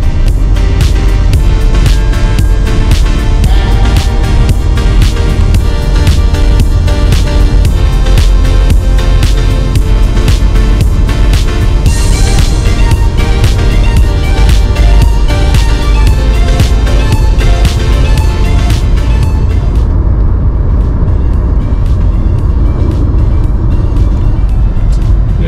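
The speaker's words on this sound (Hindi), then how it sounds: "आपको मेरा गाड़ी का थोड़ा सा टॉप स्पीड आपको करके दिखाते हैं" A Tata Nexon in sports mode with its windows up accelerates hard toward top speed, heard from inside as a loud, continuous engine and road drone that holds for the whole stretch and thins slightly near the end.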